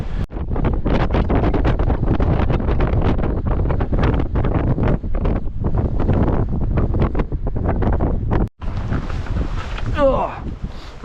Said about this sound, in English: I can't face that wind.